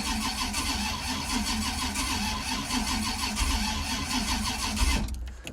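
An Oldsmobile Cutlass engine, started for the first time in years, cranks and runs in a rough, loud, close-up drone with a rhythmic pulse, then cuts off abruptly near the end.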